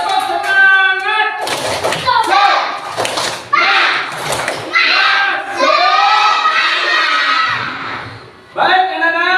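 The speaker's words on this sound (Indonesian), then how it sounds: "Mana tepuk tangan yang tersemangat dulu?" Schoolchildren in a classroom clap together enthusiastically in rhythmic bursts, mixed with shouting and cheering voices, loud and close throughout.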